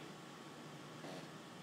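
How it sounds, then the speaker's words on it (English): A small electric fan runs indoors as a steady, soft broadband hum and whoosh, continuous and unchanging throughout with no voices. "There's one little fan running,"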